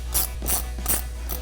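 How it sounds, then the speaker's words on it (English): Quick ratcheting clicks of a wrench tightening a 16mm nut on a 2012-2019 rear-wheel-drive Dodge Challenger front strut, four short bursts close up over a steady low hum. "So we'll get this tightened down."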